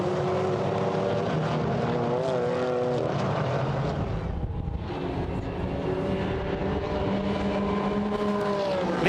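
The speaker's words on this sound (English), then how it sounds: "So over the timing line they have come, and Alec Udell getting on with the job." GT4 race cars running at Paul Ricard in a European Series race, a loud, sustained engine drone from several cars whose pitch rises and falls as they pass close by.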